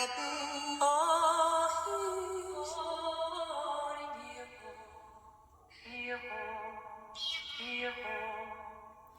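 Layered musical samples in GarageBand on iPad, processed with chorus, Bit Crusher, reverb and high- and low-pass filtering: bright pitched tones that swell and glide, with a couple of rising sweeps and some echo, loud and with no voices.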